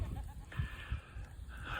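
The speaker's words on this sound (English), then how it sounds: "and these are the goats." Goats on a farm bleat, with two drawn-out wavering calls at moderate distance over low rumbling background noise.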